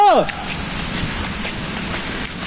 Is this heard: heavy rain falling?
yes